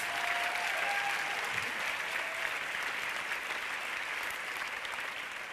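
Applause from a film festival audience greeting the director and producer of Animal, a broad even wash of many hands clapping at moderate distance that tapers gently toward the end.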